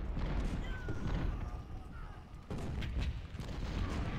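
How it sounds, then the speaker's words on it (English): Artillery shelling on a Civil War battlefield in Ultimate General: Civil War, a dense continuous rumble of booms and distant cannon fire, loud throughout with a brief dip midway. "Get as much artillery shelling him as I can."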